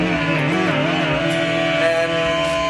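You Rock electronic guitar in lead guitar mode, a sustained synthetic lead tone bent up and down with the whammy bar, wobbling pitch for a few seconds, loud and alone without talk.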